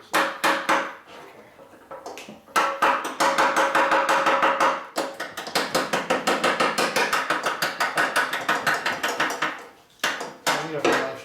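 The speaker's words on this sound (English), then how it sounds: "Uncle Amigo made this little lead hammer for me, and it saves my life a lot." Small handmade lead hammer tapping on a 1983 Harley-Davidson FXRT Shovelhead during brake repair and ignition timing work, giving long runs of quick, close, metallic taps in steady bursts with brief pauses between.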